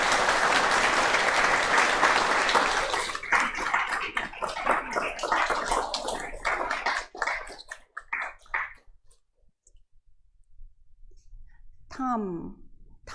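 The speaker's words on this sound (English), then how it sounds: "Big applause for Insan." Audience claps loudly at a Buddhist naming ceremony, a dense burst of applause that thins into scattered claps and fades, followed by quiet and a brief vocal sound near the end.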